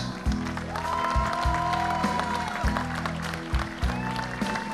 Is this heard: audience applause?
yes